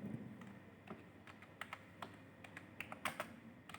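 Typing on a computer keyboard while entering a network domain name, a quick irregular run of close, light key clicks over quiet room hiss.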